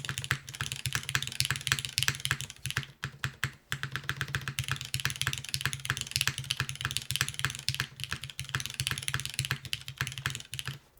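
Rapid typing on a Neo80 mechanical keyboard with a freshly swapped spacebar on Neo stabilizers, a dense run of close, crisp keystrokes with a few dull, heavier spacebar thocks and one brief pause.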